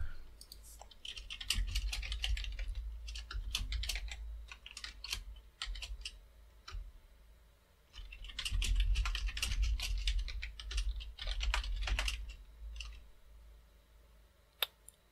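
Commands being typed on a computer keyboard at a terminal, two bursts of quick, close keystroke clatter separated by a brief pause, over a low steady hum, ending with a single sharp click.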